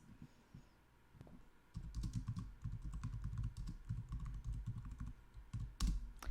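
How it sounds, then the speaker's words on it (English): Computer keyboard typing at night, a few scattered key taps giving way to quick, steady clacking bursts, close and crisp, with a sharper louder stroke near the end. "I do love the sound of a keyboard"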